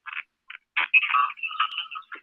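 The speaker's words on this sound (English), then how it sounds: "Mr. Gabriel, your phone is kind of like bubbling a little bit." A phone rings during a talk-show discussion, giving off short, warbling electronic bursts that come in uneven clusters, close and fairly loud, with no one speaking over them.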